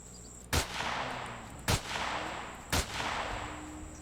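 Three spaced, sharp gunshots fire in the Empyrion sci-fi survival game, each a loud, punchy crack that decays quickly over a low, steady ambient hum.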